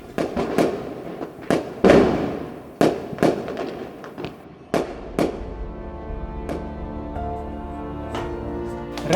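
Sharp firecracker bangs go off irregularly, some close and loud, others fainter, followed by a steady ringing drone under the later blasts.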